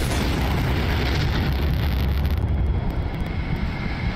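In-game explosion from the House of the Dead Remake on Switch, a loud, dense blast that sustains as a roaring rumble for several seconds before thinning out.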